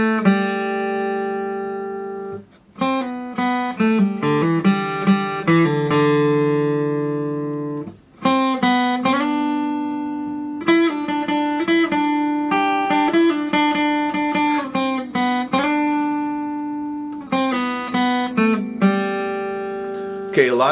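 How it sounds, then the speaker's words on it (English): Acoustic guitar playing the lead intro of a song, a clear melodic line of single notes with hammer-ons and pull-offs, close and alone with short pauses between phrases. "the acoustic guitar lead in the introduction sounds like this"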